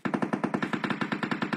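Automatic gunfire in a video game shooter scrim: one rapid, evenly spaced burst of about fifteen shots in under two seconds, close and punchy, with no talking.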